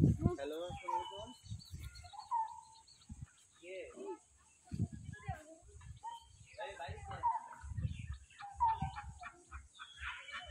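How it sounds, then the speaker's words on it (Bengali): Ducks in a village yard beside a pond, quacking repeatedly at close range with a person talking over them. "হাঁস, এই হাঁসগুলো আমার শাশুড়ির।"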